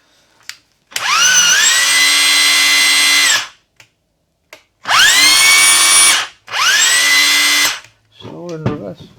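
A Makita DHR202 cordless hammer drill spins up in reverse in three loud, close bursts with a whining rising motor pitch, separated by pauses, and a voice is heard briefly at the end.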